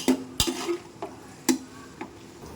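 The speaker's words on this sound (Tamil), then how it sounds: "நம்ம வெங்காயம் வதங்கிட்டுருக்கு" Onions frying in a pan during mutton biryani preparation, with a soft sizzle underneath and several sharp scrapes and clanks of a spoon stirring against the pan at irregular intervals, close by and with no talking.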